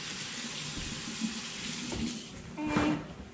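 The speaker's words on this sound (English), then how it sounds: "Let me wash one more time, because this is a little bit messy" Hands are washed under a running kitchen faucet while ribs and macaroni are being cooked: a steady hiss of water streams continuously, with soft splashing shifts as the hands move through the flow and a brief louder gush near the end.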